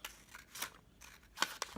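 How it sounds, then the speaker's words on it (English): Scissors cut through paper strips for paper beads in a few quick, crisp snips spaced irregularly, close and quiet with no talk. "Okay, so I found my scissors. And I'm just going to start cutting these."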